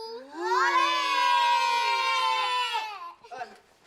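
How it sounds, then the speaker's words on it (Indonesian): Group of children cheering together in a loud sustained high-pitched shout lasting a few seconds, then breaking off into scattered excited voices. "Lo kok ikut sorak juga sih?"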